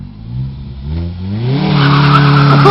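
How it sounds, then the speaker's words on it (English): A 2012 Ford Focus SE with a manual gearbox does a burnout, its engine revving up and its tires breaking into a loud, sustained squeal that rises and holds close by, with no talk over it. "time for a burnout."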